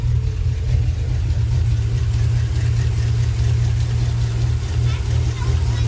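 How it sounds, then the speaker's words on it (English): A Chevy LS V8 idles steadily right after a mild cam swap, a loud, even low rumble that holds for the whole stretch with a faint upper hiss and no breaks. "The motor sounds nice and quiet now."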